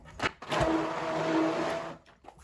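A blender whirs for about a second and a half, mixing liver pie batter with pepper and salt. The sound is close but fairly quiet, with a faint click before it starts and no talking.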